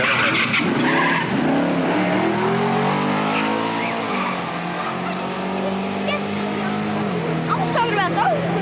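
Drag racing cars launch down the strip at Centerville Dragway: loud engines roar and rise in pitch with tire screech, sustained and close, as a track announcer talks over them.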